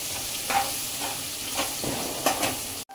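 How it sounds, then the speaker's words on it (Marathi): Ginger garlic paste fries in a pan for paneer biryani, giving a continuous sizzle with soft stirring scrapes at a steady rhythm, heard up close with no talking. "आता आलं लसूण पेस्ट फ्राय करून घेतले एक मिनिट"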